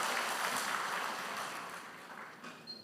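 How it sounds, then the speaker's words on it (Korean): A church audience at a summer camp evening service applauds, a broad sustained clapping that slowly fades. "박수해 주시기 바랍니다"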